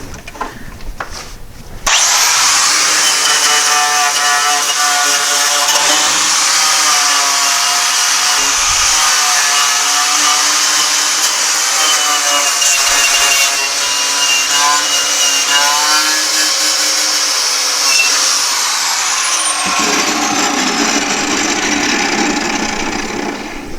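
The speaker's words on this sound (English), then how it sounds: "Since the Hitachi grinder chose to quit working, we're going to use my other one." A handheld angle grinder roars loudly and continuously against the rusty front-end sheet metal of a Porsche 912, starting abruptly after a brief quiet moment and running steadily for about eighteen seconds before the pitch drops as it winds down.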